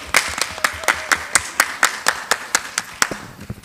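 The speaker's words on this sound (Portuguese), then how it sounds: "palmas para ele" Rhythmic clapping from a small audience at a lecture at a literary festival in Poços de Caldas, Brazil, about a dozen even claps in steady time, fairly close and clear with no talking.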